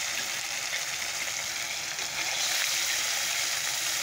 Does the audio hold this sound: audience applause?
no